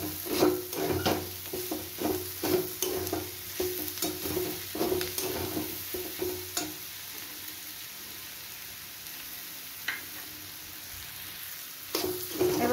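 Spices with salt, turmeric and sugar are stirred in a pan for a Kabuli chickpea ghugni, with a rhythmic run of scraping strokes over a soft sizzle that fades into quieter frying before a couple of final scrapes.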